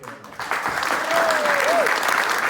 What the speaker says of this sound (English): So a huge round of applause, please, for